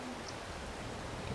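Steady, soft hiss of rain falling on an open farm field, a continuous even patter with no distinct drops standing out, fairly quiet and uninterrupted.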